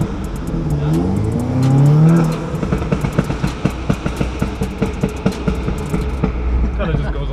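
A 2016 Audi S3 8V with a downpipe and a pops-and-bangs tune revs up with a rising engine note, then lets off into a rapid rattling string of pops and crackles from the exhaust, loud and close.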